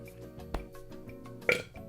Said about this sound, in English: I had to belch.